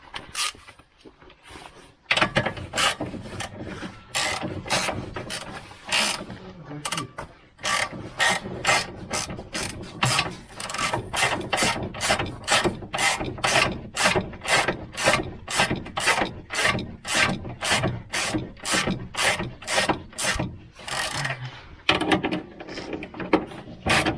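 A large ratchet wrench works on a car chassis during suspension work, its pawl clicking in fast, regular bursts of sharp ratcheting strokes, close and loud, following a few scattered metallic knocks at the start.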